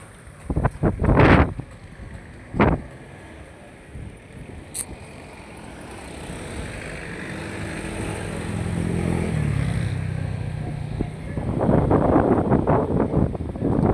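Boat engine rumble and wind noise on open water near the Navotas bridge in the Philippines, with a few sharp bursts early and a steady motor drone building toward the end.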